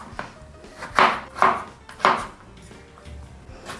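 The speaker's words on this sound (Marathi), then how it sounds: "आता याचे आपल्याला छोटे तुकडे करून घ्यायचे। याचे असे छोटे तुकडे करून घेऊया।" Knife chopping raw green mango into small pieces on a board, several sharp separate thuds in an uneven rhythm, close and clear with no talk.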